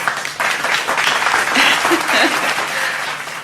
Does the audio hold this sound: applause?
yes